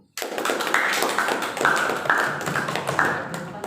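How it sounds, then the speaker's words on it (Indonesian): A classroom audience claps together during a teaching practice session, a dense, steady round of applause that starts abruptly and holds fairly loud for several seconds with no talk over it. "Beri aplaus dulu"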